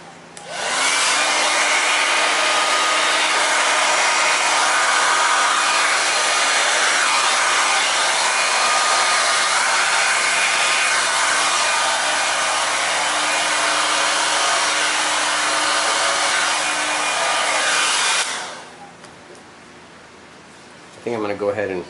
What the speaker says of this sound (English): Blow dryer, high air, no heat.